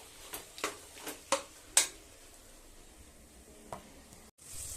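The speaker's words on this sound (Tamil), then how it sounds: "கேரட், பீன்ஸ், பட்டாணி போட்டுட்டு அடுத்து பொட்டேட்டோ, உருளைக்கிழங்கு போட்டு நல்லா வதக்கணும்" Carrot, beans, peas and potato cook in a pan for vegetable rice, a low sizzle under a handful of sharp spoon scrapes and taps against the pan, irregularly spaced and close.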